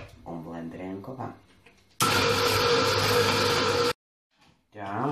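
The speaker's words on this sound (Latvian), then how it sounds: "Un blenderējam kopā." A kitchen blender whirs loudly and steadily for about two seconds while blending apple-nut cake batter, then cuts off abruptly; a person talks before and after it.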